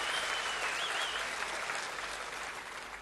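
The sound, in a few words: audience applause welcoming three daughters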